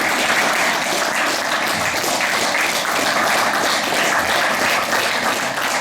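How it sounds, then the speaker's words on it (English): Steady, dense applause from a crowd at a Brazilian jiu-jitsu seminar during a black belt promotion, sustained and even throughout with no breaks. "Another round of applause."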